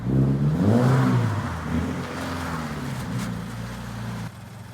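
A revived Subaru BRZ driving along, its engine a steady mid-pitched drone with slowly shifting harmonics, loud and close, easing slightly toward the end.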